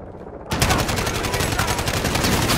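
Assault rifle fire in the Call of Duty Modern Warfare video game starts abruptly and keeps going as dense, rapid, loud automatic shots for the rest of the stretch.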